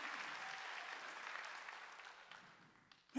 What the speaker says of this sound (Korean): 박수 치라니까